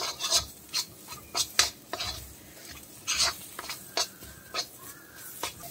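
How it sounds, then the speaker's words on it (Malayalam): Ingredients for a North Indian fish curry are stirred and mixed in a pan with asafoetida, giving a close, steady series of scraping, rasping strokes in an irregular rhythm with no talk. "നന്നായിട്ട് മിക്സ് ചെയ്ത് യോജിപ്പിക്കുക."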